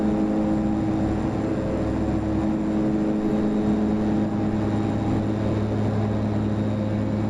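Steady drone of Twin Otter turboprop engines in a flight simulator, a continuous tonal hum that swells slightly as power increases, with no talking over it.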